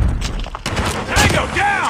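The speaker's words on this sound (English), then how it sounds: "Grenade, run! Watch out, grenade!" Grenade blast in Call of Duty Mobile multiplayer, a loud booming explosion under a shouted in-game voice warning and other battle noise during a quick close-range fight.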